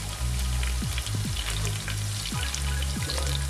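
Onions and garlic frying in a pan for a curry lamb stew give a steady, close sizzle and crackle, with a few low knocks and scrapes as the pan is stirred. No one speaks.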